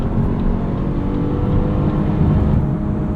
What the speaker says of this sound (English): You can hear a downshift there around the corner.